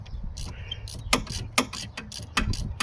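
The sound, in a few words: ratchet wrench loosening 14mm bolt on Kia Soul alternator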